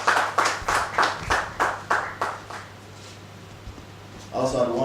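Applause at an African prestigious awards ceremony: a run of rhythmic, fairly loud hand clapping that fades away after a few seconds, followed by a voice speaking.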